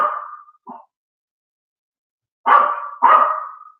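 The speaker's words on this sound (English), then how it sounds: "I apologize about Mika barking so much." A dog barks several times: a short bark, a brief yip, then after a pause two loud, close barks in quick succession, with no talking.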